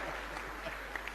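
Audience applause at a Hindi comedy poetry performance, a brief steady burst of clapping from a crowd, fairly faint and even, with a low hum underneath.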